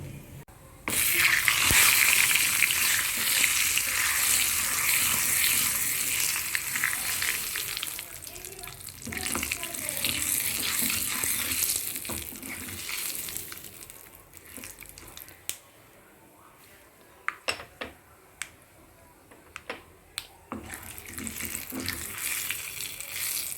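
Cumin and turmeric tempering sizzling in hot oil for mint chutney: a loud, steady crackling hiss that dies back briefly midway, then resumes with stirring clicks, close up and without talk.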